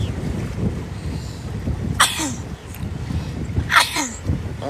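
Two sharp sneezes burst out a couple of seconds apart outdoors by a lake, over steady wind noise and low background rumble.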